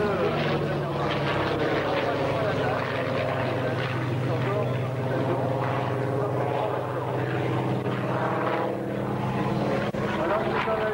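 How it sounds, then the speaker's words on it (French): Douglas Skyraider, a large single-engine propeller aircraft, drones steadily and loudly at an air base air show, a continuous engine roar with speech mixed in throughout. "Cet avion, le Skyrader, a été utilisé en Algérie"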